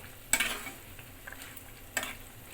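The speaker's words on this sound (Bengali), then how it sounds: "গ্রেভিটা ফুটে উঠেছে, এখন আমি ঢেকে দেব" A spoon scrapes twice through boiling sour-yogurt chicken gravy in a pan, two distinct stirring strokes roughly one and a half seconds apart over a soft, continuous bubbling simmer.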